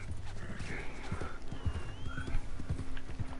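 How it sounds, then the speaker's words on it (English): Horse hooves clip-clop rhythmically at a gallop in Red Dead Redemption 2 Online, steady repeated thuds with a brief whinny, moderately quiet beneath faint game ambience and occasional talk. "I got Cozie's horse, dude"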